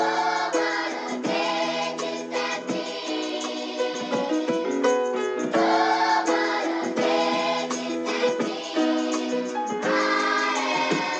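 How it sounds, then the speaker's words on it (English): Gospel sample warped to tempo, sped up and raised in pitch, playing alone as a brighter, quicker choir passage with steady chordal movement throughout. "sped it up and pitched it up for semitones."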